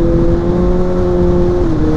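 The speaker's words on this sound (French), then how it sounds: "à partir de 8000 le moteur prend une envolée tout seul" Inline-four engine of a 2020 Kawasaki ZX6R sport motorcycle holding high revs, a steady loud whine with a strong tonal line that dips slightly near the end, close and continuous with no talk.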